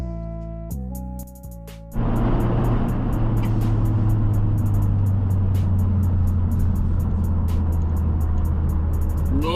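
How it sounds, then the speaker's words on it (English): Volkswagen MK7.5 GTI heard from the driver's seat on a twisty road, with a few tonal beeps at the start before a steady engine drone and road roar take over, loud and continuous. "Obviously we've got the GTI here, we've got a little POV drive going."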